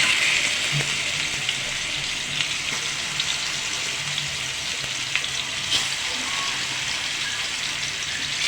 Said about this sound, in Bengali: এখন মাছটাকে ভেজে নেবো রান্নার জন্য